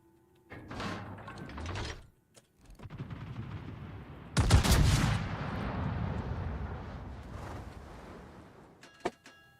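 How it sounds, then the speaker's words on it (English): High-explosive shells fired at a warship in World of Warships: dull booms and rumbling impacts, one heavy close blast midway trailing into a long roar, and a sharp crack near the end. "I think he's shooting HE at me"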